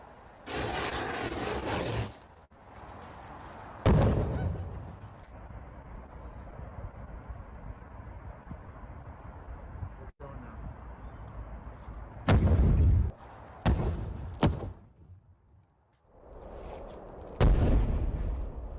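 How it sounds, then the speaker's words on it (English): A recorded ammonia explosion is played back, giving several loud, sharp blasts with rumbling, roaring stretches between them, separated by brief drops toward quiet. "Maybe I'll play it again. Just to get a feel for the explosion."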